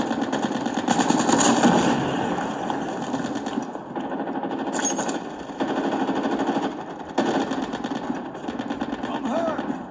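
Rapid bursts of automatic gunfire and shots from a Call of Duty match played on a phone, sounding in clustered volleys under in-game voices.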